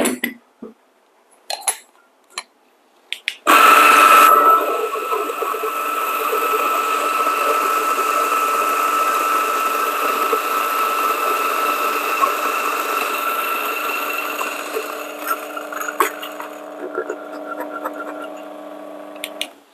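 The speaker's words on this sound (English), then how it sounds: "I'm grinding at about 10 setting on the DF64" A DF64 single-dose coffee grinder set fine at about 10 grinds steadily for roughly twelve seconds. The motor whine is loud and close and stays even, then winds down into a few light clinks.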